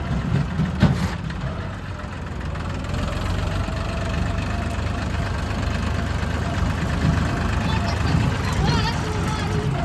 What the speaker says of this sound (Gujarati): અમારું ટ્રેક્ટર છે જુઓ ન્યુ હોલેન્ડ